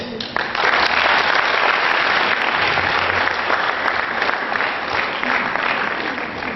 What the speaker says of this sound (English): please greet Professor Sharma with applause